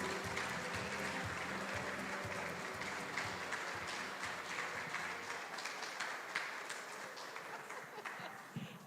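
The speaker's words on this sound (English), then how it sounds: "Let's give one more big round of applause to our 2024 Cohort 7 White Coat recipients." A ceremony audience gives sustained applause for white coat recipients, a dense, steady patter of many hands clapping that holds for several seconds and thins slightly near the end, with no speech over it.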